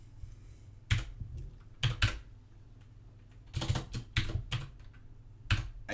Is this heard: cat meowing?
no